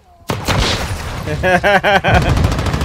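Sharp bursts of gunfire from the Modern Warfare 2 beta video game erupt after a brief silence, followed by rapid repeated shots and electronic whine, with a voice briefly over the action.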